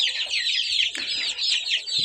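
Chickens cluck in a busy, overlapping stream of close, bright calls with no pauses, from a farm flock where month-old chicks were moved to roomier quarters and a hen sits on eggs.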